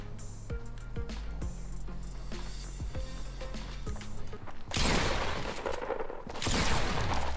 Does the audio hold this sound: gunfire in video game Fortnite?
yes